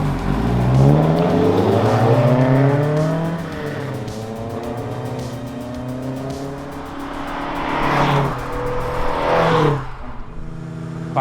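A 1971 Alfa Romeo Giulia Super with a modified, non-original 1600 engine is driven hard, its motor loud and close as it revs up and shifts through rising and falling gears, with a sharp burst of acceleration near the end.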